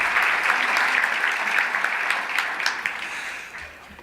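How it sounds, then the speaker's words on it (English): A round of applause from the audience at an awards gala, sustained crowd clapping at fairly close range that gradually thins and fades away near the end. "And let's have a round of applause for her"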